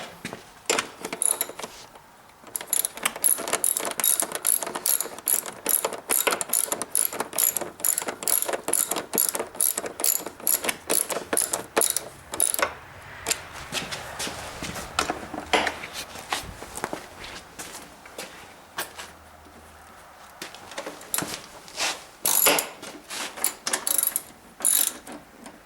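A ratchet snugging up 12mm bolts on an IMS gas tank fitted to a Suzuki DR650, heard as long runs of rapid, close metallic clicking, broken by short pauses between bolts.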